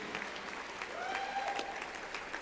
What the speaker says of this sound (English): How about a round of applause for this staff, the food, and everything here at the Breslin?